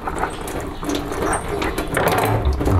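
Tap water running steadily while scraped beef sausage casing is rinsed at a sink, a close continuous splash with small handling clatters.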